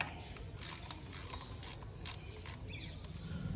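Socket wrench ratchet clicking in repeated short bursts while undoing M6 screws with a 10 mm socket on a 1999 Maruti Zen engine, near and moderately loud over a low background rumble.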